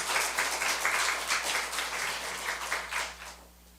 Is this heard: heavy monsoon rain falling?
no